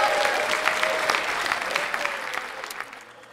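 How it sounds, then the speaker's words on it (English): A studio audience at a Halloween-special film quiz podcast applauds and cheers loudly and steadily, a bright dense clapping that tapers off slightly near the end. "Applause."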